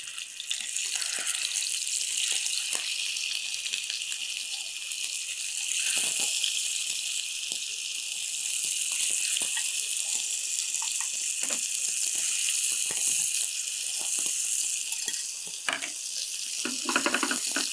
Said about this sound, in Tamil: என்கிட்ட இருக்கிற இந்த கருவாடை அப்படியே அதில் போட்டு பொறிச்சு எடுத்துடலாம்